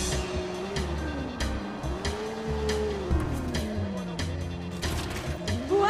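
Car driven fast in the video game Watch Dogs, engine revving up and down with tire squeals and skids, loud and close, with a voice talking over it.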